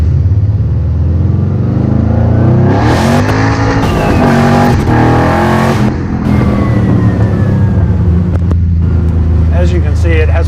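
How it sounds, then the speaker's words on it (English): A 1962 Corvette with small tires accelerates hard in first gear, its engine roaring loud and close. The revs climb steadily through the whole stretch, with faint tire noise underneath. "I'll step on it pretty hard in first gear right now."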